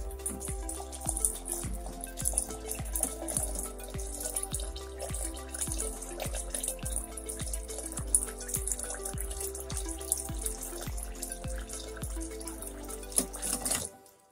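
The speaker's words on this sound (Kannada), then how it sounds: "ಪ್ಯೂರ್ ವಾಟರ್ ಅಕ್ವಾಗಾರ್ಡ್ ವಾಟರ್ ಹಾಕ್ಬಿಟ್ಟು ಇದನ್ನ ನೆನೆಸೋದಕ್ಕೆ ಇಡ್ತೀನಿ" Aquaguard purified water pours steadily into a container of dosa batter grains set to soak, a continuous trickling and splashing with faint regular drips, fairly quiet and unbroken until it stops at the end.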